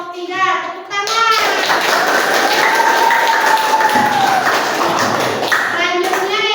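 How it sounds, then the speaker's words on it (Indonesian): Classroom applause for a student group during a lesson: a sustained burst of clapping from many hands fills most of the stretch, with children's voices mixed in and an adult voice at the start and end. "Tepuk tangan."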